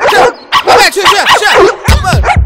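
A man imitating a dog with rabies symptoms, in a comic scene, gives a run of loud, close barks, yips and whimpers in quick succession, his voice mimicking the animal throughout.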